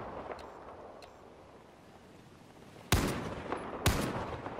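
Gunfire in Battlefield 4: after a quiet stretch of low ambient game noise, two sharp, loud shots crack about a second apart, each trailing a short echoing tail.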